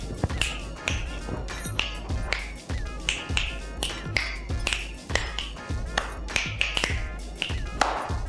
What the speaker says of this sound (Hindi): ये क्या तालियां क्या बजा रही हैं?